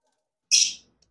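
A single sharp, bright chirp from a caged pair of Fischer's lovebirds, brief and fairly close against near silence, followed by a tiny faint peep.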